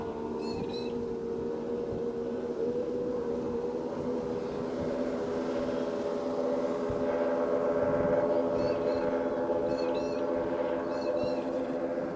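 Offshore superboats racing hard on Corio Bay, a steady loud droning engine roar with layered harmonic tones holding throughout, a slight swell near the middle.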